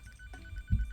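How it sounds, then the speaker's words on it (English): A telephone rings once in a short, moderately quiet burst of bright tone, alone with no talking. "Oh, I got a phone call."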